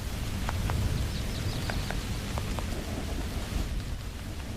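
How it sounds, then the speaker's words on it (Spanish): Steady heavy rain pours over the Serengeti plains during the November storm season, a dense continuous roar with low rumbling thunder underneath and scattered sharp drop ticks throughout. "La lluvia es vital para el ecosistema del Serengeti."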